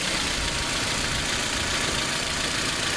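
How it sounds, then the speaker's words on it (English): Petrol engine of a 2001 Hyundai Elantra running steadily up close, a constant broadband mechanical drone with no clear rise in revs. "when you rev it up slow like this, it's not missing"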